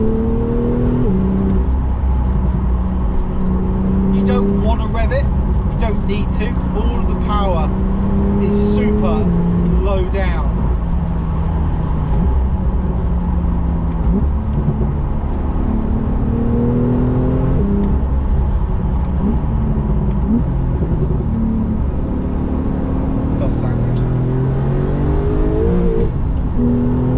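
Porsche 911 991.2 GTS with PDK gearbox pulling under throttle on the road, a steady engine drone that swells and shifts pitch as it gathers speed, with a voice talking over it throughout.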